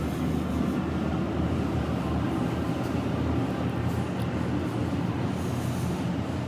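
A Sydney train, service A51 bound for Lindfield, rumbles steadily past at North Sydney station, a continuous low rolling drone at moderate distance with no talk.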